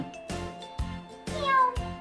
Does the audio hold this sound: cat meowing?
yes